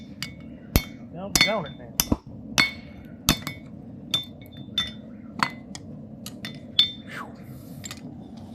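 A hammer strikes a chisel set in an anvil's hardy hole, cutting a hot railroad spike, with a dozen sharp ringing metallic blows at an uneven pace, close and bright, and a man muttering briefly between strikes.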